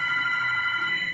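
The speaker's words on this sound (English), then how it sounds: "The phone, take the phone." A telephone rings steadily with a sustained electronic bell tone in a medical simulation training room, continuous and fairly loud throughout with no talking over it.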